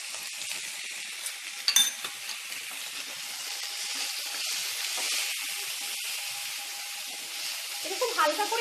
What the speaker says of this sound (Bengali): এটা খুব হালকা করে ভাজা হবে মৌমিতা?